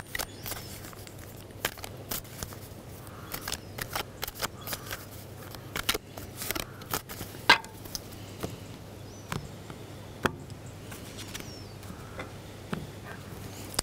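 Soft, intermittent flicks and riffles of tarot cards being shuffled by hand, quiet and close, scattered clicks over a low steady hum.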